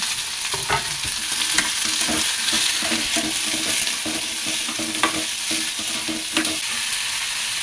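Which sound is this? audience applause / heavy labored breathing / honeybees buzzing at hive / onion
onion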